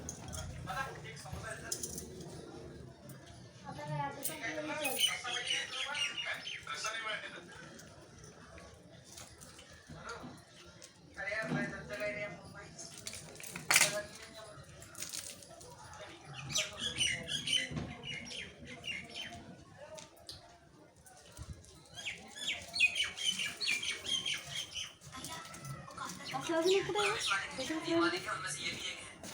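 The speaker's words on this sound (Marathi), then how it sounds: "इथं पक्ष्यांचा किलबिलाट खूप छान येत होता आवाज" Birds chirp and tweet repeatedly in bursts nearby, scattered across the whole stretch, with some faint background noise between calls.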